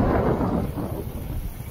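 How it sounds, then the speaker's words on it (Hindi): Strong wind buffets the microphone outdoors beside a road during a motorcycle test, a steady low roaring rush with gusty swells and no talk. "हवा बहुत तेज चल रही है"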